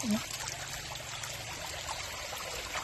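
Strong water flowing in a stream in a flooded countryside setting, a steady broadband rush and gurgle close by, filling the whole moment with no clear talking.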